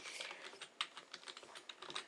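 Quick, soft keystrokes patter on a computer keyboard in an uneven run of close taps, one slightly sharper click standing out, with no talking.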